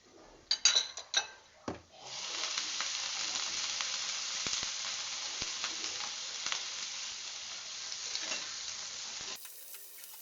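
Mushrooms frying in a pan for beef embutido, a steady close sizzle with a few sharp clatters and stirring scrapes at the start, then continuous frying hiss with light stirring for several seconds.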